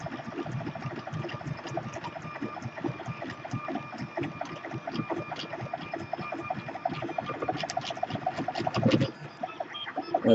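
A 3D printer runs a 40 mm calibration cube at super high speed, near 600 mm/s, its steppers whirring in a dense, rapid, rhythmic buzz of quick back-and-forth moves, steady and close throughout.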